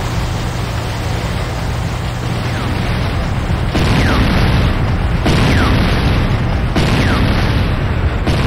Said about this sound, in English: GDI infantry barracks destroyed.